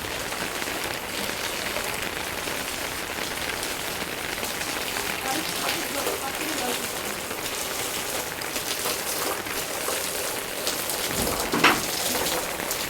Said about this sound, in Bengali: প্রচুর বৃষ্টি, সকাল থেকে পুরো মনে হচ্ছে এখন অন্ধকার হয়ে গেছে, এত বৃষ্টি এত বৃষ্টি